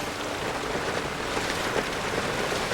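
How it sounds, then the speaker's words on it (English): Rain falling on a house roof makes a dense, steady patter, close and continuous, with no voices over it. "It's our rain. On our roof."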